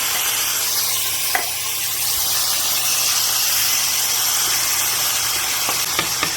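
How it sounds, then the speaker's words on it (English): Onion, garlic and canned Rotel sauté in a pan with a steady, close sizzle and occasional faint clicks of stirring. "And now we're going to saute this on this side of the pan until soft."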